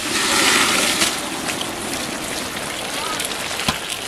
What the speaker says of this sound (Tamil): புளி தண்ணி நல்லா கொதிச்சிச்சு, அது கூட தாளிப்பை சேர்த்துக்கலாம்.